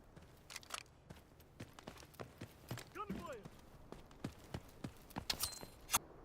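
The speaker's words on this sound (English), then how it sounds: "Heard the footsteps" Footsteps sound in the video game Delta Force as a steady run of sharp, distinct thuds, several per second, with people talking at the same time.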